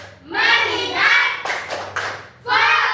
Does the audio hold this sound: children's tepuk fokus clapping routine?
yes